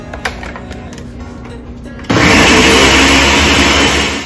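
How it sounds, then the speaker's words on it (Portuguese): A quiet room gives way to a blender switching on after about two seconds, a loud, steady, whirring roar that runs to the end as milk is blended for a pudding. "agora eu vou bater no liquidificador de novo"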